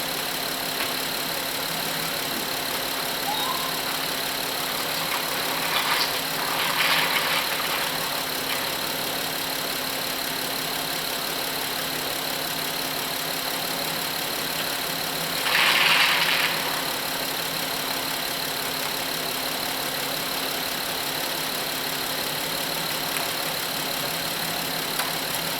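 A Honda 3.5 engine idles steadily while warming up, a constant even hum with a faint high whine, interrupted twice by brief soft rustling noises nearby.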